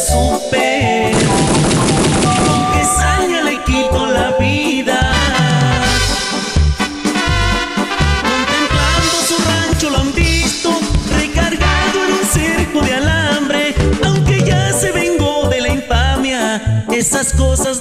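Rapid bursts of machine gun fire crackle loudly and continuously, layered over dense music with a steady beat.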